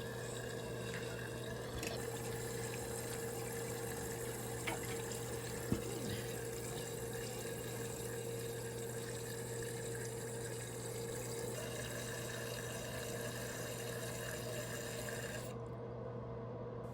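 Water rushes steadily into a toilet tank as it refills after a flush, a constant close flow with a hum beneath, a couple of small knocks, and a sudden drop near the end.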